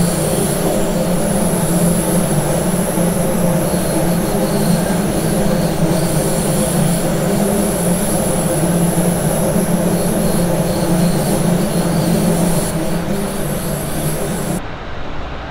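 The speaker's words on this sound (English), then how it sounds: "I take it that noise is when it tilts, is it?" A tilting passenger train on the Dresden–Chemnitz Tharandter Rampe route in Train Sim World 2 runs steadily, giving a loud, constant rumble with a sustained mechanical hum and high whine, with no talking.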